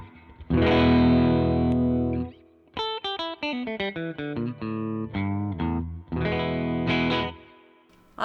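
Electric guitar played through a Pigtronix Gamma Drive overdrive pedal with a compressor engaged, loud sustained distorted chords alternating with a run of quicker picked notes, up close with no talk.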